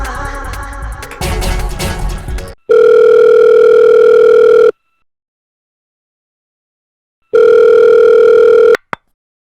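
A telephone line rings for an incoming call, two long, loud steady electronic tone bursts separated by about three seconds of silence, following a stretch of muffled noise.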